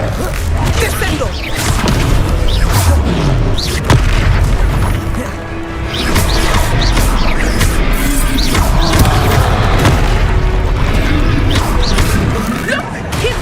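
Descendo slams an enemy to the ground in Hogwarts Legacy, deep booming impacts and crashes rolling through a loud duel for over ten seconds, with talk over the fighting.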